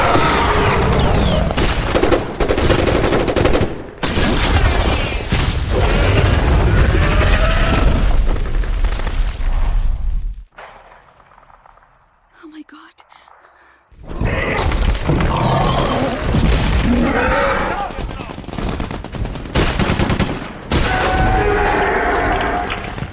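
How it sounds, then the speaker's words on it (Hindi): Heavy bursts of gunfire and booming blasts fill the scene, dropping to a brief lull before the dense shooting resumes. "गोलियां चलाओ।"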